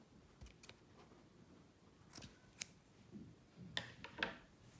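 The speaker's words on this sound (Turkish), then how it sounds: "İpimin fazlalığını kesiyorum." Scissors snip off the leftover yarn while an amigurumi sleepy elephant toy is being crocheted, giving several small, faint, sharp clicks spread across an otherwise quiet stretch.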